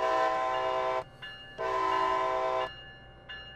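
Two long blasts of a train horn in the Train Sim World Northeast Corridor New York simulation, each about a second, followed by shorter faint toots, with steady rumble between them.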